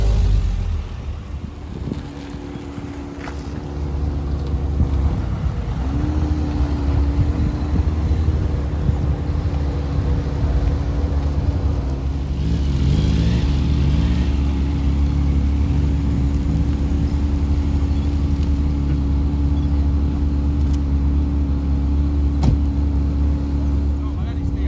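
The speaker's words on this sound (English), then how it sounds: "Let's have a look at all the cars getting in" Classic cars roll onto a ferry crossing from Malta to Sicily, their engines making a low, continuous rumble with steady tonal hums, brief pitch swells as they rev, and wind buffeting the microphone.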